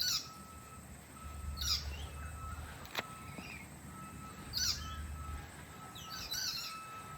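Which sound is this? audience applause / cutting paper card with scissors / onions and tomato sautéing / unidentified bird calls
unidentified bird calls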